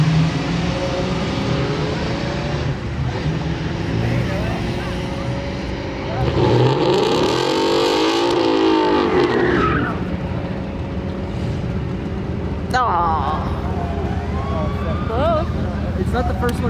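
Street race cars, including a Mercury Capri, launch and run loud and close, with engines roaring and tires skidding and screeching. People talk throughout over the engine noise.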